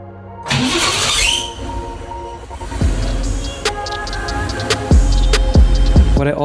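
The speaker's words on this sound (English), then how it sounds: "the noise it makes when the car starts is still there" A Porsche 964 cranks and fires up with an odd extra noise, a loud starter whirr followed by a rough running engine with sharp ticks and clicks recurring over several seconds, close by.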